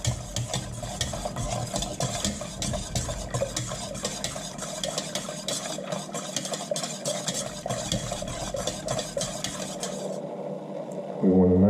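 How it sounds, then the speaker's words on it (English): A spoon stirs flour heating in a pan, scraping in steady rapid strokes over a soft sizzle for about ten seconds before the stirring stops and a low thump ends it. "you want to make sure to keep stirring it so that it doesn't burn"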